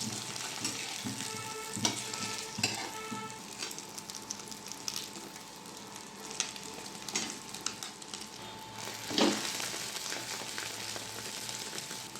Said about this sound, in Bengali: তেল গরম হয়ে গেছে, আমি অমলেটগুলো ভেজে নেব।